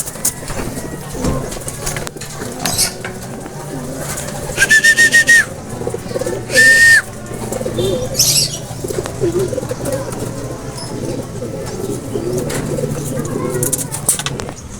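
Racing pigeons at a loft during a race, cooing with bursts of wing flapping and a few chirps, close and fairly loud over a busy outdoor background with low voices.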